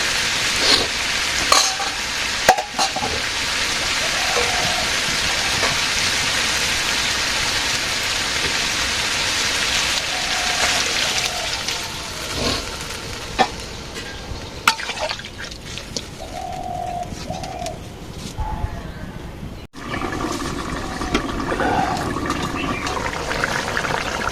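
Fish frying in a pan with water splashed in, a loud steady hiss and crackle that runs throughout, while birds chirp and coo in the background.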